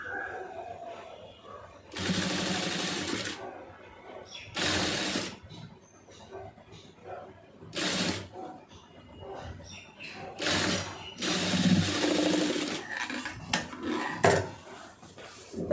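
A sewing machine runs slowly while stitching piping on a lining blouse, sounding in several separate bursts of a few seconds each with quiet handling between, close by and without speech.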